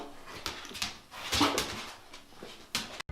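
A dog whimpers and yips in short, uneven bursts close by, with brief louder cries scattered through the stretch and no talking.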